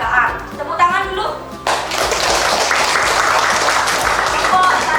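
A primary school class breaks into hand clapping, with a teacher talking first, then a burst of applause from many hands that carries on to the end.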